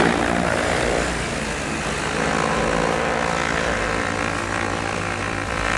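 Steady, loud whirring of the multiple propellers of an XAG V40 agricultural sprayer drone running continuously at close range, a dense buzzing drone with no voices.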